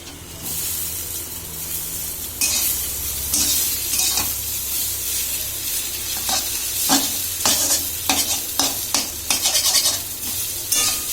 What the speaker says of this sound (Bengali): নেড়ে নেড়ে ভাজতে হবে